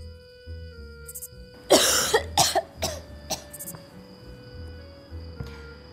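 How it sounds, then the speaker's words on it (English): A person coughs several times in a short burst, close and loud, with a faint high electronic whine in the background. "Emily has a cough."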